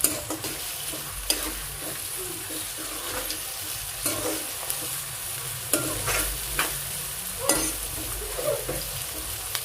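Ivy gourd curry with salt sizzling steadily in a pan, with scattered scraping clicks of a spoon stirring through it, close and continuous with no talk.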